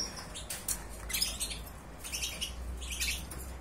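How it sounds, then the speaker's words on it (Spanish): Caged canaries, including a yellow red-mosaic bird, give quick high chirps and tweets in short bursts, fairly faint and indoors, with no talking. "Aquí estamos con los pajaritos hoy un ratito."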